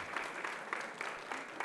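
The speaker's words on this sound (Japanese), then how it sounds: "大きな拍手を送りください" A crowd at a Hakodate keirin bicycle race awards ceremony applauds faintly from a distance, a soft, even patter of many hands in a large outdoor venue.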